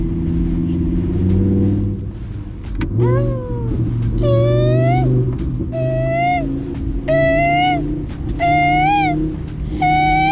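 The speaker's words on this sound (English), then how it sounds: "But downshift. It's a downshift." A loud supercar drives through Miami streets and downshifts close by. Repeated rising rev blips cut over a steady low engine drone.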